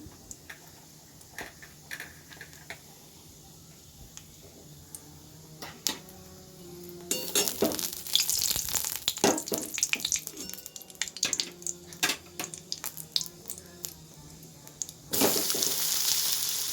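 Spices fry in a hot pan as a soft sizzle, broken by clinks and stirring scrapes, then a louder, denser burst of frying that swells twice, close and without talk.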